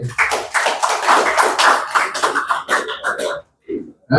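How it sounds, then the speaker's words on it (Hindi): A crowd at a stand-up comedy show at a laugh club in Hazaribagh claps in close, uneven bursts of nearby hands that die out near the end, leaving a brief sound after a pause. "एक बार इनके लिए भी बजा दो ताली"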